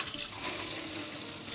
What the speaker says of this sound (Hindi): अब हम इनके ऊपर ठंडा पानी छोड़ देंगे।